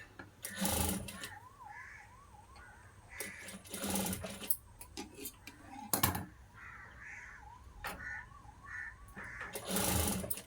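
Sewing machine stitching a blouse, running in short bursts of whirring separated by pauses, with faint handling sounds and someone talking between the runs.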